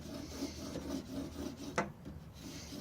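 A steel chisel blade rubbed back and forth on a sharpening stone, giving a steady, close rasping scrape with a soft rhythmic grind and one brief sharper scrape near the end.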